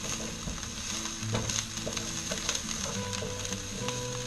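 Onions frying in a pan, a steady close sizzle with light crackle and a few faint clinks, no talking.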